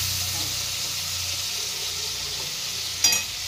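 Bitter gourd cooks dry in a hot pan with a steady close sizzle and hiss, and a brief sharp clink of a utensil near the end.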